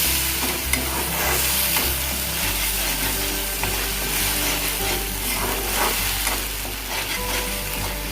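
Masala paste for egg curry sizzling and frying in a pan, stirred continuously with scraping utensil strokes, loud and close with a steady hiss throughout and no talking.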